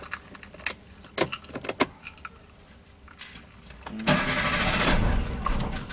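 A Kia Picanto's ignition key is turned, with brief key and switch clicks followed by the engine cranking and catching, a loud steady start running through the last two seconds close by.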